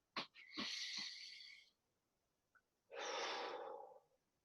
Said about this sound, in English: do some breathing